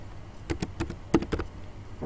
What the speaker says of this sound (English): We do that by typing transaction SE38